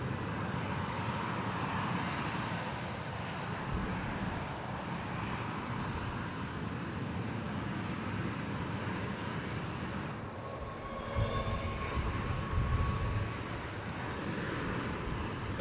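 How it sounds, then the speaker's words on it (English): Jetstar Flight 891 from Hervey Bay arriving on runway 25 at Sydney airport, a steady broadband jet roar that holds loud and constant throughout, swelling slightly near the end with no talk. "about to arrive on runway 25 here at Sydney, Jetstar Flight 891 from Hervey Bay"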